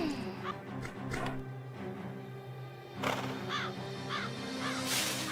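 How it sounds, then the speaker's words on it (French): Crow cawing in a cartoon scene with horses, repeated harsh calls at a fairly close distance over background music and scene sounds. "Va-t'en, sale corbeau!"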